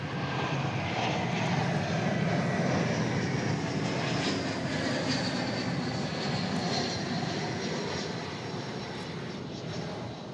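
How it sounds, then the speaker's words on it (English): An American Airlines Airbus A321 arriving at DFW Airport roars steadily overhead, a loud broadband jet drone that holds strong throughout and eases off only slightly toward the end. "We have a flight coming in from Los Angeles, Flight 615, American Airlines. Where is it? There it is. It's an Airbus A321."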